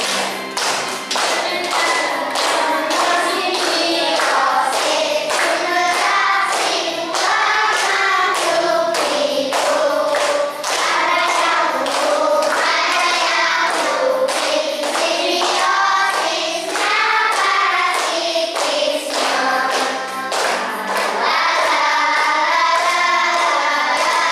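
Children in a classroom clap along in steady rhythm to a sung tune set to the melody of a children's song, sharp regular claps under the singing voices throughout.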